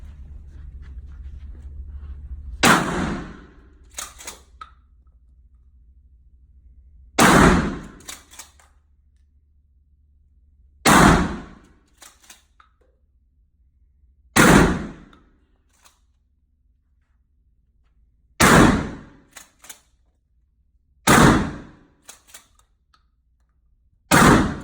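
Firearm shots at a training range with a 1944 Marine Corps-era gun: seven loud, sharp single reports spaced a few seconds apart, each with a short ringing tail, and quiet handling noises in between.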